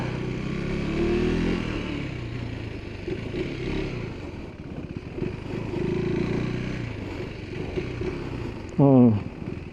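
A KTM 390 Adventure R motorcycle engine runs and revs nearby, a rumbling low drone that rises and falls through several throttle blips, with a brief sharp whine burst near the end.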